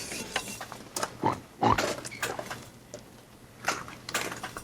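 A food slicing machine cuts food into thin slices with whirring, clicking mechanical passes in irregular bursts, close by and moderately loud.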